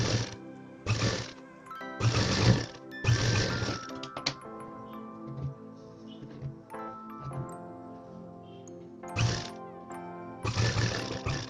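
A sewing machine stitches lining cloth onto a garment sleeve in several loud, close bursts of whirring motor, broken by brief pauses, with no voices.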